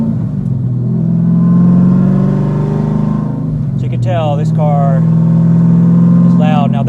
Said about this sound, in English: Now that's with the cutoffs out. So it's bypassing the titanium mufflers.